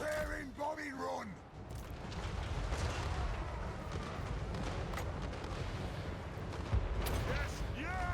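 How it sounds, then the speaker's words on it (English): Explosions from a gyrocopter bombing run in Total War: Warhammer III, a steady rumbling barrage of booms and blasts lasting throughout, with voices shouting over the battle at the start and end. "Preparing bombing run!"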